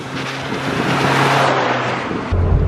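Suzuki Samurai engine held in fifth gear at full throttle around 50 mph on a back road, a steady loud drone with wind and road rumble throughout, and a deeper boom toward the end.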